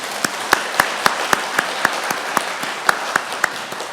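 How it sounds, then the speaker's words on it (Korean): Church congregation clapping in encouragement for the choir during a Sunday service, with a steady run of individual claps in a loose rhythm, fairly close and moderately loud, and no speech over it. "우리 사랑의 찬양대 격려하면서 우리 사랑의 박수, 격려의 박수 한번 드리도록 하겠습니다."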